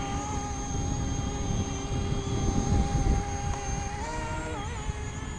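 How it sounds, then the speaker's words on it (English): An E-Flite Convergence VTOL radio-controlled plane gives a steady electric motor whine in a light headwind, with a brief rise in pitch near the end as the throttle is blipped into flight mode. "you could actually hear the throttle go up there for a second, and that was me blipping into flight mode"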